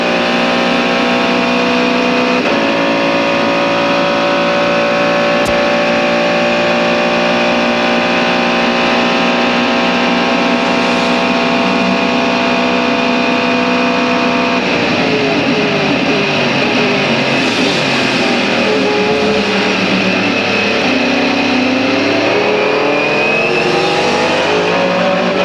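A Mercedes-Benz CLR race car at the 1999 Le Mans 24 Hours, recorded onboard down the Mulsanne straight: a loud, unbroken engine roar that holds at high revs throughout, the pitch climbing slowly as it pulls.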